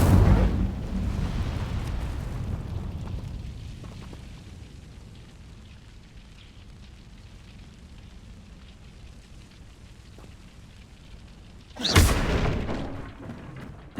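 Casting the Incendio fire spell in Hogwarts Legacy sets off a loud fiery burst that booms up front, then fades into a long rumbling tail, and a second sharp blast erupts near the end.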